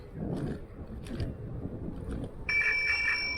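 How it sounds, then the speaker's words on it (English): Loud replacement bell on a Xiaomi Pro 2 electric scooter, a bright steady ringing tone starting late and holding for about a second over outdoor road and wind rumble. "That's a louder bell, I think."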